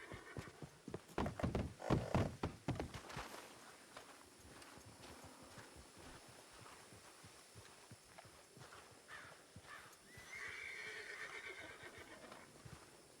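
Horses in a video game neigh loudly at the start over clattering hooves, then the hoofbeats continue more quietly with another whinny near the end.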